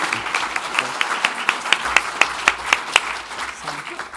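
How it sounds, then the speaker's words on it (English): An audience applauds award-winning organizations at a college awards ceremony with steady, dense clapping. Sharper individual claps rise above the crowd, and the applause holds at a fairly even level throughout. "let's give all of these organizations and their work one more round of applause"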